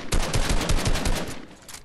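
Rapid bursts of automatic gunfire in Fortnite, a loud, close run of repeated shots that tapers off toward the end, with no talking.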